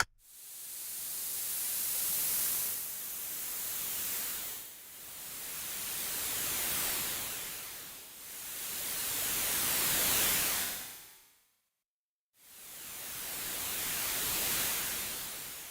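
A seashore sample pitched absurdly high in music software becomes a hissing, static-like wash that swells and recedes in long wave-like surges, with a brief total silence before the final surge, no voices.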